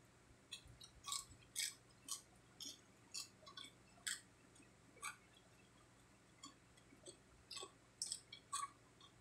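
A little girl chews crunchy food close to the mic, crisp irregular crunches coming in bursts with short pauses between bites and no talking.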